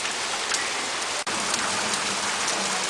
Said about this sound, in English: And yeah, that's all hail right there.